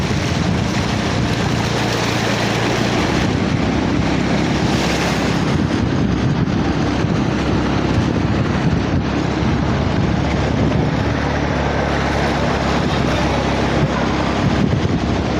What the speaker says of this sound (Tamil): தண்ணி எவ்வளோ வேகத்தில் போகுது பாருங்கள்